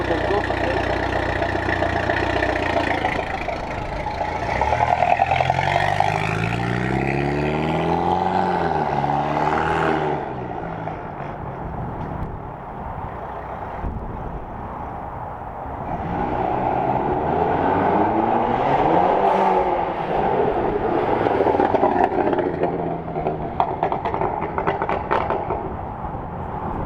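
Mercedes C300 with a pops-and-crackles tune and exhaust valves open, revving repeatedly while driving up and down a car park, engine note rising and falling in two long surges under some background noise.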